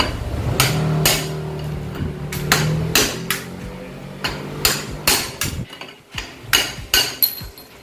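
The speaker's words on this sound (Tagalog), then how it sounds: "Pukpukin natin para matanggal yung ano, yung railings." Repeated metal hammer strikes knocking out the steering ball race on a Honda Click V3 scooter, loud ringing clanks in an uneven rhythm, closer and sharper toward the end.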